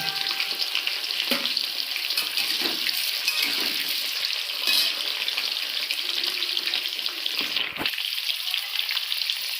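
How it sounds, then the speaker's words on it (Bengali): Potatoes frying in hot oil for a mutton curry, a steady broadband sizzle with crackle that holds at a constant loudness throughout, with no voices. "এবার আলুটা ভেজে নিচ্ছি।"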